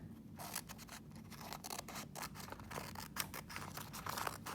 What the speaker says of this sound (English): you turn your paper over and you trim off your excess